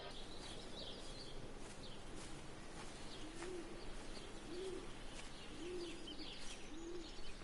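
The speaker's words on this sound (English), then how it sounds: "I hear owls, I think." In Everybody's Gone to the Rapture, soft hooting calls sound four times at a steady pace over a faint outdoor ambience of birds and insects, distant and quiet.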